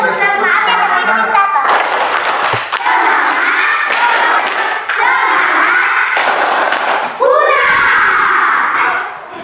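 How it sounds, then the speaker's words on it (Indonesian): Schoolchildren in a classroom beat out a rhythmic spirit clap, loud sharp claps grouped in bursts mixed with shouting voices from the class. "Satu kali kita tepuk semangat."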